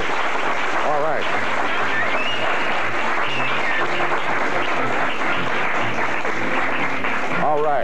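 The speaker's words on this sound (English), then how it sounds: "I see a rather roaring round of applause over here" Roaring audience applause at a 1980–81 high school varsity quiz bowl quarterfinal between Ecole Classique and Jesuit, dense sustained clapping filling the room while voices talk over it.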